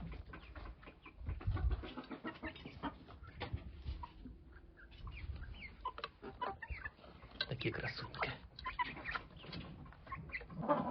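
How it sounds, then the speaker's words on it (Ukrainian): Roosters and hens on a village farm cluck and fuss steadily around a woman feeding them in the evening, while she speaks softly over the restless flock. "Півні там нервують."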